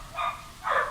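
Two short dog barks about half a second apart, moderately loud and fairly close, with no talk over them.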